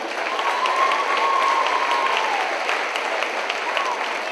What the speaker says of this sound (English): let's have a round of applause for participants here this evening